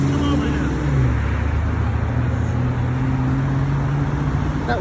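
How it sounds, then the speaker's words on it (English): Steady road traffic rumbling past a roadside corner outside a jail, a continuous low engine drone of passing cars with no breaks, fairly loud and close throughout. "But we've got lots of traffic."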